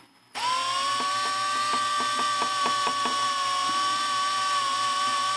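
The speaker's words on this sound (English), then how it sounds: "Now I have my paddle attached to me. And this will spin around." A paddle mixer on a drill spins in slip casting plaster, starting abruptly and holding a loud, steady motor whine with a rapid series of rhythmic clicking knocks near the start, close up with no talk.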